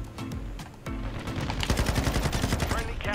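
Rapid automatic gunfire from Call of Duty Modern Warfare 2 on the Shoot House map, including light machine gun bursts, rattles in dense volleys throughout, growing louder after a brief lull, with a voice speaking over it.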